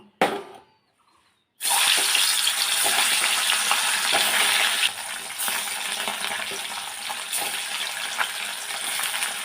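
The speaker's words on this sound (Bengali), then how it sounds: "এবার মাছ ভেজে নেব" Small puti fish hit hot oil in a pan after a brief near-silence, bursting into a loud, continuous sizzle that carries on steadily with slight swells, no talking.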